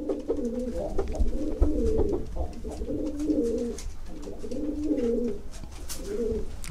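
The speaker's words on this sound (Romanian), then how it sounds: "Deci superb, superb, superb porumbelul." A pigeon coos in repeated low, throaty phrases, close and steady, over a constant background hum.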